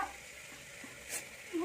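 Turmeric goes into a sizzling pan of matar aloo sabji in a home kitchen: a steady close frying hiss with a light stir, and a brief voice near the end.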